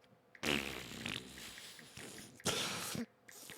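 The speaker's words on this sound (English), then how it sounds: "farting." Two loud, close fart sound effects burst out about two seconds apart, each a rough, sputtering blast trailing off, with quieter room noise between them.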